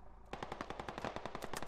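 Video game gunfire, a rapid burst of closely spaced shots rattling off in a fast steady rhythm for over a second, loud and alone.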